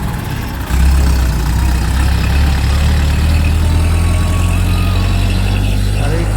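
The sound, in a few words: big vehicle driving on village highway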